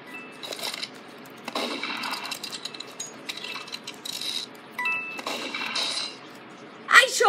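Bursts of gunfire in a Roblox game, sharp clattering shots in several short volleys spread across the clip, with a brighter burst near the end and a low background murmur.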